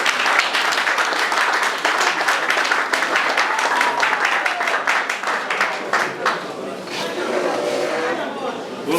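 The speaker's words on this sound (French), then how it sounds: "je vous demande d'applaudir très fort pour le PDG" Loud, dense applause for a CEO at a flat inauguration event in Kasavubu, a crowd clapping hard and steadily with chatter mixed in, thinning slightly toward the end.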